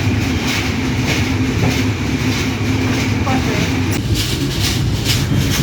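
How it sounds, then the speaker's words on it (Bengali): Bonolota Express, a long non-stop train, runs through Ibrahimabad railway station in Tangail, producing a loud, continuous rumble with clattering wheels up close, and voices talk faintly under the noise. "ইব্রাহিমাবাদ রেল স্টেশন থেকে লম্বা কার নিয়ে বনলতা এক্সপ্রেস যমুনা বহুমুখী সেতুর দিকে ছুটে যাচ্ছে"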